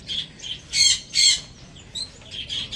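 Pet birds giving sharp, harsh squawks in short bursts, several calls in quick succession, loud and near with nothing else over them.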